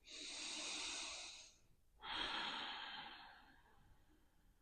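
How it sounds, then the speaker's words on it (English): Two slow, deep breaths during foam rolling of the hip flexors, each a long airy exhale of a second or more, close and fairly quiet, with a short pause between them and no talking. "we're just going to breathe"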